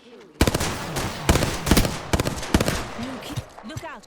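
Rapid bursts of automatic gunfire in the battle-royale game Apex Legends, several loud volleys crackling close by in quick succession, with game voice lines and sound effects mixed in.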